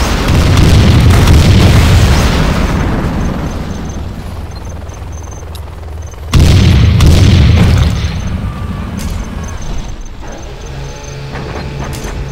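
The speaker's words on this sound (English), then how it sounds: "We have launched our nuclear missile." A nuclear missile detonates in Command & Conquer Generals Zero Hour: a loud, deep booming blast rolls out and decays, followed by a second heavy boom around the midpoint and a fading low rumble with faint tones.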